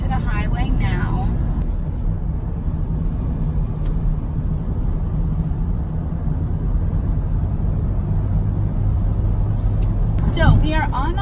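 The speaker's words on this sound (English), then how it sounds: "So we are on the highway now, and the wind noise is not bad." Steady broadband wind and road roar inside a 2011 BMW X3 cruising on a highway, loud and continuous throughout, with a brief passing swell near the end.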